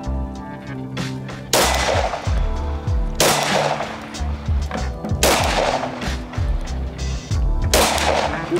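Loud gunshots crack at a shooting range, four sharp reports spaced a second or two apart, each ringing out with a short echo tail.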